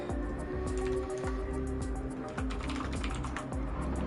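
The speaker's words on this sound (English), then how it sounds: "Got some lovely keyboard ASMR." Computer keyboard typing during a Gran Turismo 7 online racing session, a busy, continuous stream of close clicks and key taps over steady background noise, with no talk.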